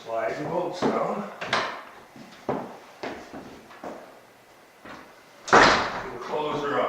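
Heavy Douglas fir double doors with cast bronze hardware being swung and shut, several wooden knocks and thuds with one loud closing bang near the end, while a voice talks over them.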